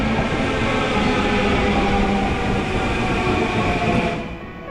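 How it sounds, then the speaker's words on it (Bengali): A Long Island Rail Road train pulls into a station with a loud, continuous rumble and rail noise, some faint squealing woven through, easing off near the end. "এখন আমরা লং আইল্যান্ড রেল রোডের ট্রেন ধরবো ট্রেন ঢুকছে এই যে ট্রেন ঢুকছে"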